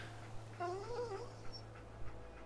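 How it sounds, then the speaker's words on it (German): A dog whimpers in Fallout 4, a short rising and falling whine of a few seconds, soft and close over a low steady hum. "Da weint sogar der Hund."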